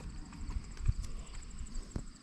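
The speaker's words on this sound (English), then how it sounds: "The horse wants to come up and say hi." A horse walks up to a farm fence, its hooves landing in a few soft, uneven clops close by over quiet outdoor background.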